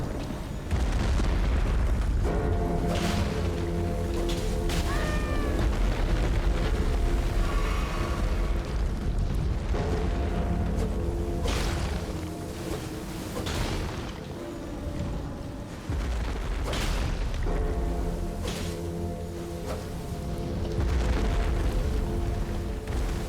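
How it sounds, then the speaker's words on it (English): Artillery-like explosions boom repeatedly in an Elden Ring DLC battle. Heavy blasts and rumbling crashes recur across a long, loud, dense stretch with scattered sharper bursts, and no talking. "We're back in World War I with the artillery bombardments."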